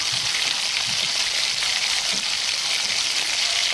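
Chopped onion and dried red chilli sizzle steadily in hot oil in a pan, a dense, even hiss that stays constant and close throughout without any talking.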